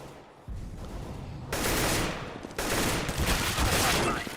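Gunfire in CS:GO as a player pre-fires a corner: loud, sustained bursts of rapid shots that come in stepped surges, with little pause between them.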